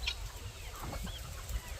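Young purebred chickens that have not yet started laying, kept together in one flock on a homestead, cluck softly and intermittently at close range over a faint background hum.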